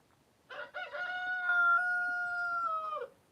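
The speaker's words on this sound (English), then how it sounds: "You can hear the rooster better than me." A rooster crows once, loud and close, a long drawn-out cock-a-doodle-doo that holds steady before dropping off at the end.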